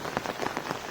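Heavy rain falls in a village in Kandhamal, drumming close on a surface in a dense, slightly pulsing patter with no voices present.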